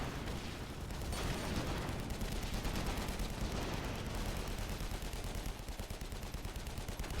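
Artillery and gunfire from a team battle in the video game AirMech Strike, a dense, continuous barrage of overlapping booms and rapid shots with no talk.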